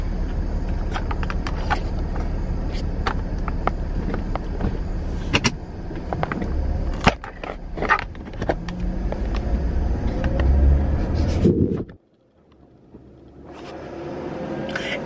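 A car drives along Connecticut roads with a steady low engine and road rumble inside the cabin, scattered clicks and knocks over it, before the noise abruptly drops away to near quiet and then slowly builds again.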